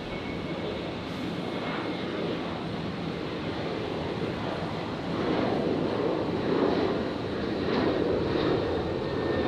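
A plane lands at night on runway 01 right at Brisbane International Airport, a steady broadband engine and air roar that holds throughout and grows louder in the second half as it passes close.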